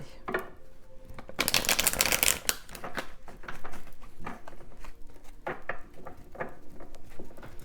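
Oracle cards being shuffled by hand, a burst of dense riffling rattles followed by lighter intermittent flicks and taps of the cards, close and moderately loud, with no talking.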